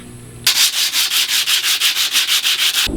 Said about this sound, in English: we're just gonna sand up our top and get it a little more smooth